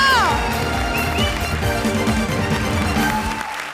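A television comedy show audience cheers and applauds for a performer, loud crowd whoops and shouting over clapping, with a descending musical sting at the start and voices mixed in before it tails off.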